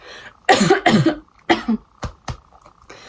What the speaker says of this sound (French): je sais pas ce que j'ai, je sais pas pourquoi je tousse